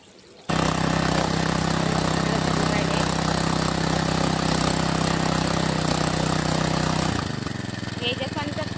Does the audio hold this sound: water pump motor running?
yes